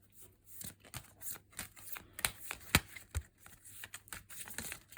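Crystal oracle cards being shuffled, a dense run of soft papery riffles and flicks with brief sharper snaps, close and fairly quiet, with no talking.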